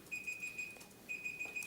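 An alarm beeps in a press conference room: a faint, high electronic tone repeats in steady pulses, breaks off briefly, then resumes, with no talking over it.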